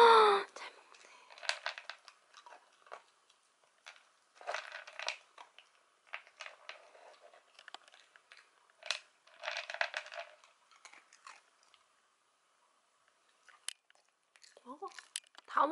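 A dachshund crunches and chews Apetto dry kibble up close in a quiet room, irregular bursts of crisp biting separated by pauses, with a voice briefly heard.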